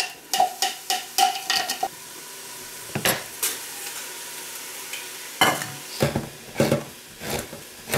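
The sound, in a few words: onions cooking in a pan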